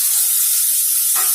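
Tomatoes hit a hot pan of browned onion and ginger-garlic paste for tomato rice, a loud, steady close sizzle with a sharper hiss near the end.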